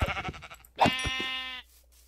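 A single sheep bleat from a sheep spawner in the video game Minecraft, wavering and moderately loud, follows a brief patch of clicky game noise, then fades into quiet.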